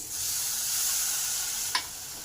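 Ginger, garlic and green chili paste frying in a pan with oil, a steady close sizzle with one brief spatula scrape near the end, no voices.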